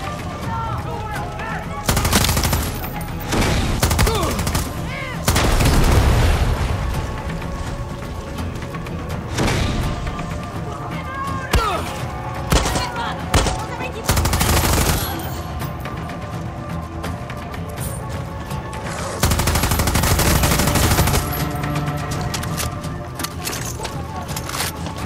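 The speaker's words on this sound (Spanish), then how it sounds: "Oigo de tiros por ahí." Repeated bursts of gunfire from the video game Far Cry 6, loud volleys and single shots recurring throughout amid booming effects, with someone talking over the action.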